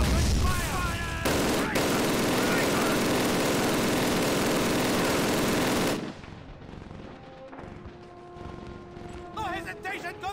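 Machine gun fire in Call of Duty's Red Square campaign mission, a continuous loud roar of automatic shots for several seconds that cuts off and gives way to quieter battle noise, under shouted voices.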